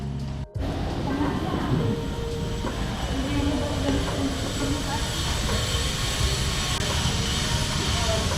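Steady rumble of a Whoosh high-speed train running from Jakarta to Bandung, a continuous dense roar with wheel and air noise heard from inside the carriage, with voices faint in the background.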